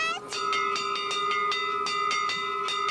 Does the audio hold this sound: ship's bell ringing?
yes